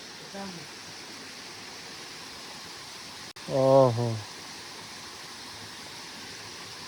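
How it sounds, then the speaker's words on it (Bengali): Waterfall on the Kiriburu hilltop gives a steady, even rushing roar throughout, with a voice briefly exclaiming over it partway through. "এটা হচ্ছে ঝর্ণা।"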